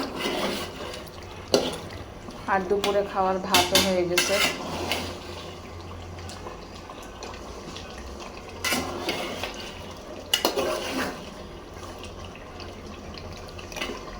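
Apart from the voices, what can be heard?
meat being stir-fried in a pot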